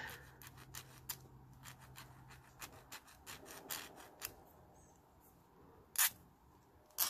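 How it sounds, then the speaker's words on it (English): A hand file rubs metal with a dry rasping sound in short strokes, quiet and close, with a few sharper clicks near the end. "I'm going to file just to get the sharpness off of it"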